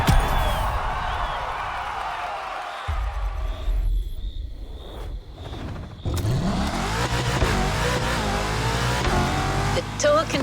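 A Mercedes-AMG One in The Crew Motorfest roars and revs under a driving engine note, with tire noise and shifting pitch, while a voice talks over the action.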